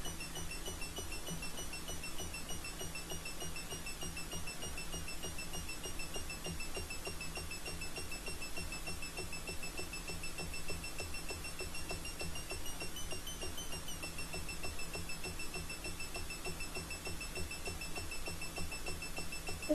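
Homemade dual oscillator driver circuit built around an NE556 dual 555 timer, producing steady electronic tones with sustained high whines and a rapid ticking pulse running continuously for about twenty seconds.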